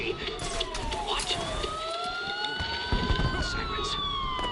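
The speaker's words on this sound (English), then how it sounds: "Sirens. The police." Police sirens wailing in the video game Batman: Arkham Asylum, several rising and falling tones overlapping loudly over a busy game soundscape.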